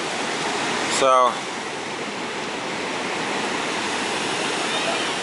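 Small waves wash onto a beach at low tide in a steady, loud, broad roar of surf, broken near the start by a brief spoken word.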